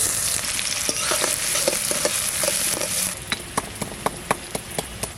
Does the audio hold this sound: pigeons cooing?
no